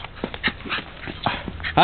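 A dog whimpers and yips in short, close bursts at a village, with people talking in the background.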